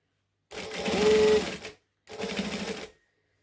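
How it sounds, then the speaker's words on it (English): A sewing machine stitches strap fabric for a sling bag in two quick bursts, a fast close mechanical whirr with a short pause between them. "I'm stitching 1/8 of an inch from the edge of the strap fabric"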